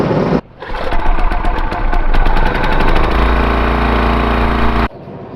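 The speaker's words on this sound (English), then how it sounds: "Let me get this tractor started" John Deere 4430 tractor engine cranking and firing up, then settling into a loud, close, rough diesel idle with a steady knocking pulse before cutting off abruptly.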